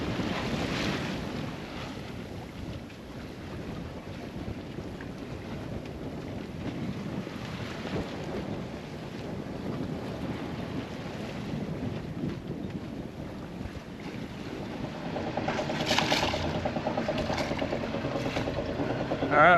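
A sailboat with its sails down motors toward Peter Island in the BVI, the steady engine drone mixed with wind buffeting the microphone and water washing past the hull, continuous throughout.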